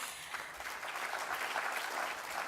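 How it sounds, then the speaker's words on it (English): Audience applause at an opening night event: a dense, steady wash of many hands clapping at a moderate, somewhat distant level, with no talk over it. "a round of applause for everyone I've mentioned"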